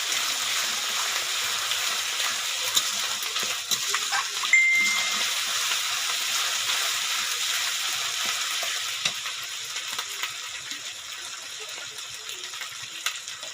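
Ginger-garlic paste and spices fry in a pan for a village-style desi chicken curry, a steady close sizzle with faint scraping stirs throughout, fading slightly toward the end.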